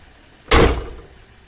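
A 1980 Lincoln Mark VI car door is handled, giving one sharp, loud metallic clunk that fades quickly, up close and with no one talking.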